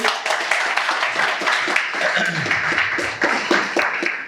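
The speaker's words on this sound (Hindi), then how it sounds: "साउथ भाई प्लीज वेलकम, जोरदार तालियां भाई।" An audience at a chartered accountancy orientation session applauds to welcome a speaker, producing loud, fairly close clapping with distinct individual hand claps and a steady rhythm throughout.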